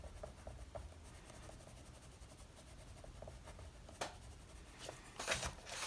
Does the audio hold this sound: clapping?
no